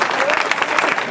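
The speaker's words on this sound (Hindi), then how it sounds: "लोबान के नाम पे तालियां बजा दीजिए दोस्तों" Audience claps at an All India Mushaira poetry gathering in Adawad, a brief burst of loud, close applause with a voice talking over it.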